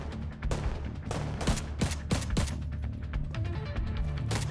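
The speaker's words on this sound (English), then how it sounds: "I'm shooting the shit out of it!" Gunfire in the Tom Clancy's The Division 2 game, rapid, loud, close shots cracking in quick irregular bursts over a constant background rumble.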